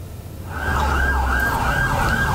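Ambulance sirens from a convoy carrying victims of a Bromo tourist-route accident arriving at RSBS Jember hospital, a sustained wavering wail swelling in after half a second and holding loud over low traffic rumble.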